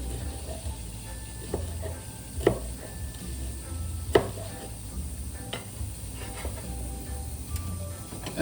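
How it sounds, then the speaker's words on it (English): A knife chops bell pepper on a board for oxtail gravy, sparse sharp taps at irregular intervals over a faint steady background hiss. "chopping up my bell pepper for my gravy."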